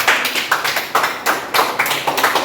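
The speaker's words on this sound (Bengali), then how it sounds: "হাততালি দাও।" Several people clap together at a birthday celebration, a brisk, close burst of uneven hand claps lasting a couple of seconds with no talk over it.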